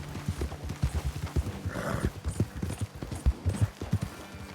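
Horse hooves clip-clop rapidly in an uneven galloping rhythm, moderately close, with a soft snort or whinny partway through, in the video game Red Dead Redemption 2.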